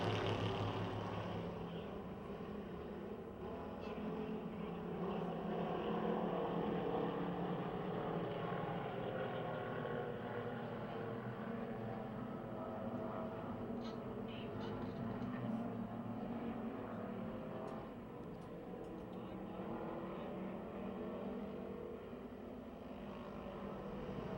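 Race cars circling Pennsylvania Motor Speedway create a continuous distant engine roar that holds steady and fills the air throughout, faint and without talk over it.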